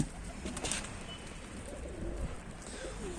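Damascus pigeons coo softly against a steady background hiss, with faint bird calls mixed into the noisy indoor loft setting.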